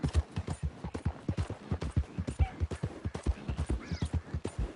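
Horse hooves in Red Dead Redemption 2, a brisk, regular clip-clop of steady trotting, close and clear with no talk over it.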